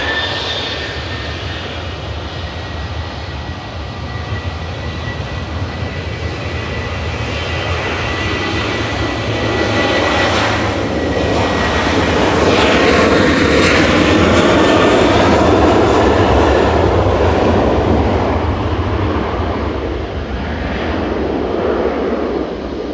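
A Ryanair jet airliner taking off at Manchester Airport, bound for Alicante: a loud, sustained engine roar heard from nearby that swells to a peak midway and then slowly recedes, with no one talking.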